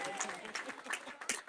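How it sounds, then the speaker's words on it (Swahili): A church congregation claps in joyful praise, a scattered, uneven wave of hand claps at moderate level, with voices mixed into the applause. "Pige Jehova makofi ya shangwe"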